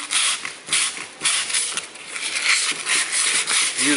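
Steady back-and-forth rasping of wet-and-dry sandpaper against a metal Split Hopkinson bar, loud and close, in rhythmic strokes with no talking.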